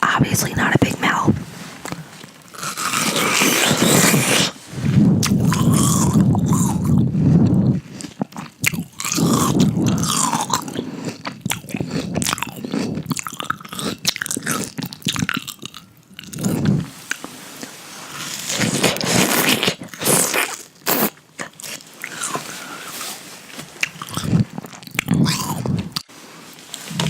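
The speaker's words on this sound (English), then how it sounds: "until I ate this watermelon" Watermelon is being bitten and chewed close to the mic in ASMR style, giving wet crunches and squishy mouth sounds, with soft whispered talk between bites.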